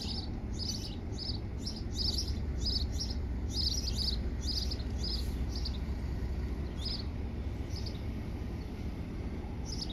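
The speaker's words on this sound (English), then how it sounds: "The birds sound happy." Birds chirping in repeated bright bursts near Port Aransas, a lively chorus over a steady low rumble of traffic or wind, with no talking.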